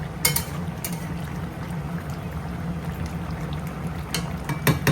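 Hilsa fish and elephant foot yam curry bubbles steadily in a pan, a continuous low simmering burble with occasional sharper pops and clicks, close and alone with no voices.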